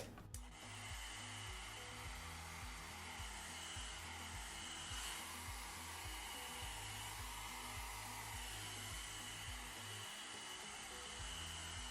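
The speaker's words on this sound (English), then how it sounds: "So this is my Eva NYC blow dryer that I bought at Winners." An Eva NYC blow dryer running continuously at close range, a steady airy whoosh with a pulsing motor hum underneath and no talking.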